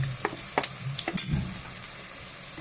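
Half-fried onions with ginger-garlic paste and spices sizzling steadily in a pan, with crackling and occasional stirring clicks throughout.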